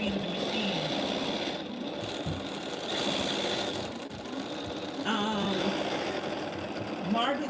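A long arm sewing machine runs during free-motion quilting, its steady mechanical whir rising and falling in speed, with a voice talking over it for much of the stretch.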